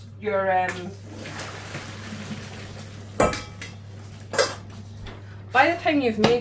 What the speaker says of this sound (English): I'm going to drain my pasta